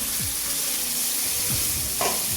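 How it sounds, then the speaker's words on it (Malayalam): Ground tomato goes into garlic and browned spices frying in a pan and gets stirred. A loud, steady sizzle fills the space, with brief scraping stirs on top and no talking. "ഇതിലേക്ക് ഞാൻ തക്കാളി നമ്മൾ അരച്ച് വെച്ചിരിക്കുന്നതും കൂടെ ചേർത്ത് കൊടുത്ത്"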